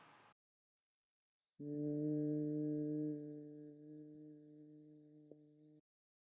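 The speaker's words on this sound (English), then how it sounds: "And we'll hum 3 times." A single sustained hum from a postnatal yoga session, one steady tonal drone lasting about four seconds after a short silence, calm and fairly clear.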